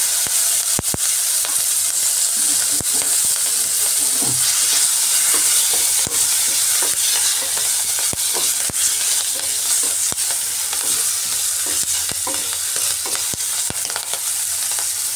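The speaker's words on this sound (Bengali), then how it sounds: "লঙ্কাগুলোকেও একটু ভালো করে" Slit green chillies fry in hot oil with a dense, continuous sizzle heard up close, broken by scattered sharp clicks and scrapes from stirring in the pan.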